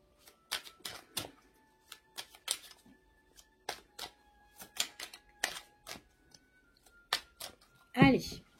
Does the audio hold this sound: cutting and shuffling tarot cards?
yes